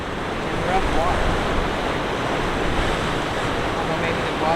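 Rough ocean surf breaks along the rocky Depoe Bay shoreline on the Oregon coast, a continuous loud wash of waves with wind noise on the microphone.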